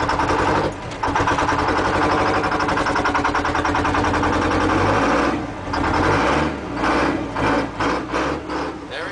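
A Ford 9000 tractor engine, just started by popping the clutch, runs with a loud close rapid diesel chatter that holds steady, then breaks into uneven surges and throttle changes toward the end, with no voices.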